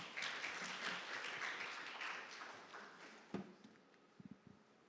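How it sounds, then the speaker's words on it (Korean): An audience at a data conference applauds to welcome a presenter, a fairly quiet wash of clapping that fades away, followed by a few isolated thumps and steps. "여러분 큰 박수로 팀장님을 환영해 주시면 되겠습니다"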